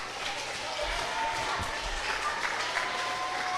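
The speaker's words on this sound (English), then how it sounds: "This crowd is getting the energy to Kenny here" Wrestling crowd at a live match applauds and cheers as a steady wash of noise, with a commentator talking over it.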